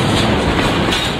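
A passenger train on the Tanzania–Zambia railway rolls along with a loud, close, continuous rumble and rattle of carriages, briefly and steadily filling the whole moment.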